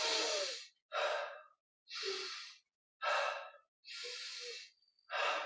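Slow, audible breaths during a guided yoga and meditation breathing exercise, heard close and alone as a series of long sighing exhalations and inhalations in a steady, unhurried rhythm with short silent pauses between.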